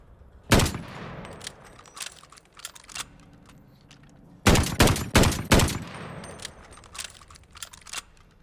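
Call of Duty Vanguard game audio of the M1916 marksman rifle firing: one sharp shot, a pause, then a rapid burst of four close shots, followed by softer mechanical handling clicks.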